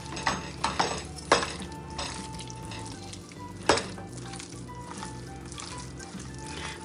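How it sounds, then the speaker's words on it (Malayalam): Spoon scraping and clinking in a bowl as chicken marinade is mixed with spices, a few sharp knocks standing out over steady wet stirring, close and fairly loud. "ഇതെല്ലാം നന്നായിട്ട് മിക്സ് ചെയ്ത് പിടിപ്പിക്കണം."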